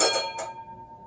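Two quick bright dings from a small model train trolley bell, close by, the second a little softer, then the ringing dies away.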